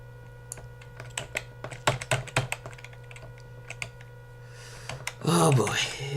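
Bursts of typing clatter on a computer keyboard at a desk, uneven clicks and key strikes spread through the stretch before a short spoken exclamation at the end over a low steady hum.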